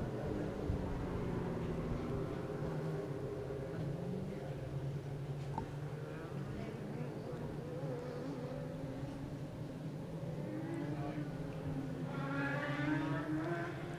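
A TQ midget race car circles a track during a race night, its engine droning and rising and falling in pitch as it passes, fairly distant over steady crowd and ambient noise.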